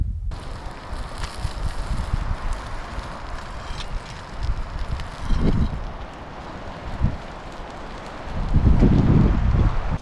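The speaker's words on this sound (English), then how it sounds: "That wind is really picking up." Strong wind gusting across a Crown Land truck campsite off Sartoris Road in Crowsnest Pass, a steady roaring buffet on the microphone that swells in bursts and grows strongest near the end.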